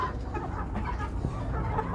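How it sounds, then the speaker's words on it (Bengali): Roosters and hens clucking inside a Malaysian chicken farm, a dense, continuous chorus of overlapping clucks and calls from many birds close by. "অনেক মোরগ আছে এখানে"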